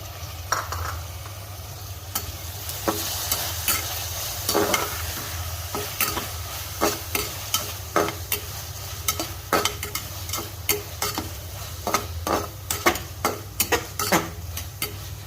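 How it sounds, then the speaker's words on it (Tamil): Onions frying in a pan for homemade prawn biryani, with curry leaves and chopped tomato added, a steady sizzle underneath repeated sharp scrapes and clinks of a spoon stirring against the pan, close and fairly loud. "இன்னும் கொஞ்சம் நேரம் அது வெங்காயம் நல்லா வேகணும்."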